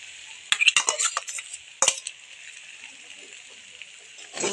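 Braised chicken being stirred into rice in a pan for cocktail rice with sweet corn, a cluster of quick metallic spoon scrapes and clinks up close, then quiet.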